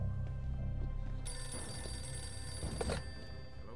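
An old telephone rings in a castle during a World War II battle, a loud sustained bell jangle that starts partway through over low rumbling background noise.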